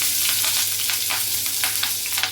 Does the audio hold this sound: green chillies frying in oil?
yes